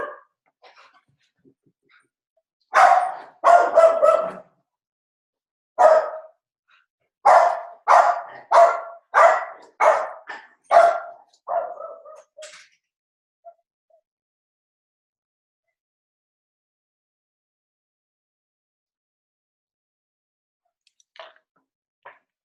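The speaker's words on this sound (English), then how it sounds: "My dog needed some attention." A pet dog barks in a run of sharp, close barks, some in quick succession, then falls silent in an otherwise quiet room.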